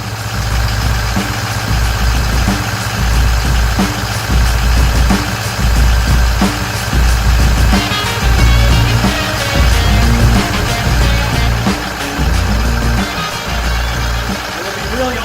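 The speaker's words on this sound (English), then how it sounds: "you can hear right now it's switched into his automatic high idle" The 6.0 diesel engine of a Ford Super Duty runs at automatic high idle with a loud, steady, close rumble and a rhythmic diesel clatter, and a voice talks over it.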